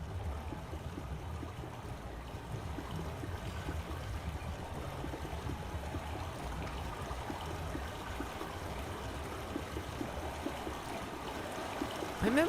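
Continuous rushing water from a flowing stream in the Myst remake video game, a steady, fairly quiet babble with no voices.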